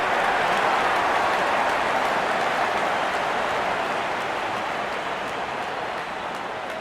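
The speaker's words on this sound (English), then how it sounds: "Wonderful 50 and the crowd applauds." Stadium crowd at an India versus England cricket match applauding a batter's half-century, a dense continuous wash of clapping and noise that fades slightly toward the end, with no talking.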